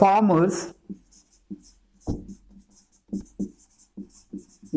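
A teacher writes on a board during a Hindi-language English grammar lesson: short scratchy and tapping strokes come in small bursts after someone speaks, with faint pauses between them.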